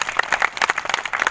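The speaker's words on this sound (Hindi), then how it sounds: "शाबाश, इसके लिए एक बार तालियां हो जाए" A group of schoolchildren claps together in a classroom for a correct answer, giving a short burst of brisk, uneven applause, close and moderately loud.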